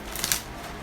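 Tarot cards being shuffled during a live reading, a short papery riffle with a couple of crisp snaps near the start before settling into a quiet hiss, close and fairly soft.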